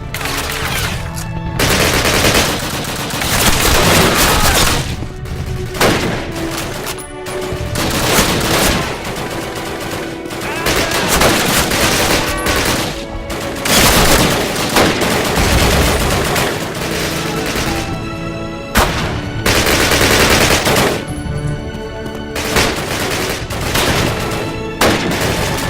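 Dense gunfire in Call of Duty, with sustained machine-gun bursts and scattered rifle shots crackling continuously at close range, brief lulls between volleys, and faint shouted voices underneath.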